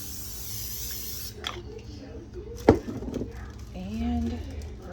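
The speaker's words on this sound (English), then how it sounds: "We're going to spray the bottom so our bread doesn't stick to the bottom here." Cooking spray hissing onto the bottom of a pizza pan, a short bright spray at the start, followed by a sharp knock of the pan and a person talking.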